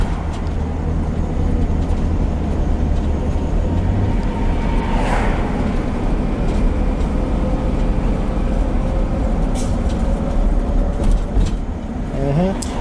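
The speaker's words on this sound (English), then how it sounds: "Now it's going back into third gear, slipping again as I go up this hill," A car with a slipping automatic transmission climbs a hill, giving a steady close engine and road drone that swells and falls as the gears drop in and out, with a brief rising whine near the end.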